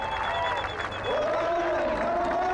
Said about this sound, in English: Oh, the crowd on the edge of their seats. We can hear them from here.